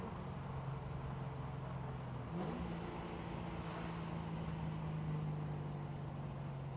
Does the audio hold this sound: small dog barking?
no